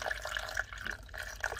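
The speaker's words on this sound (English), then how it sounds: "you pour the water into this little K-cup" Water pours into the plastic reservoir of a single-serve K-cup coffee machine in a soft, continuous trickling splash, quiet and close, with no talking.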